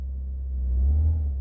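Car with a 1.8 litre engine idling and rising slightly in revs as it is moved, a steady close low rumble that swells briefly and settles, with no talk.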